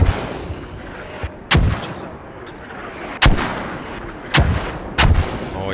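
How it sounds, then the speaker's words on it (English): Mortar artillery fire in a tactical military video game match: four heavy booming impacts land at irregular intervals over steady background battle noise, loud and fairly close, with no talk. "HSR mortars are coming."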